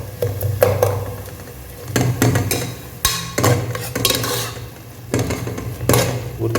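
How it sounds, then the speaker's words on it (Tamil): Green chillies sauté in oil in a pan for a village-style fish curry, marked by repeated scraping stir strokes in irregular bursts over a low background sizzle, with no voices. "நண்பா பச்சை மிளகா கொஞ்சம் எண்ணெயில் வதங்கணும்."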